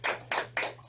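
Three sharp, evenly spaced hand claps recorded close up during a podcast interview, with a low steady hum running beneath them.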